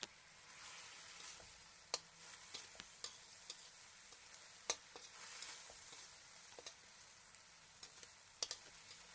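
Tofu and bean sprouts frying in a pan give a quiet, steady sizzle, broken by scattered sharp ticks and taps from stirring, with no talking.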